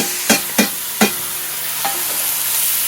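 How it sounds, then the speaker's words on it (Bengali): Taro and chilli fry in a pan with a steady sizzle, broken early by three distinct scraping stirs and a fainter one later. "একটু নেড়ে চেড়ে এবার আমি এটাকে দিয়ে দিচ্ছি এই জলটা পুরো টানিয়ে নেব"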